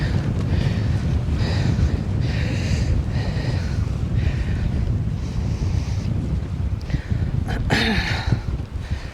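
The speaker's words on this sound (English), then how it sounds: "It's a bit windy." Steady wind roars across the microphone on a fishing trip near Darwin for several seconds, a constant rushing blow with a few brief clicks and bumps near the end.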